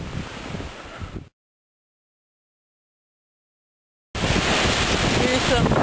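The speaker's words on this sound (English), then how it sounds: "Here's some wave action down on Lake Superior." Waves breaking on Lake Superior's shore during a near-whiteout snowstorm, heard as a churning wash mixed with strong wind buffeting the microphone; the sound cuts out to silence for about three seconds, then returns louder and steady.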